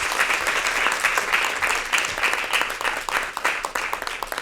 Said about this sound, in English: I'll give yourselves a round of applause.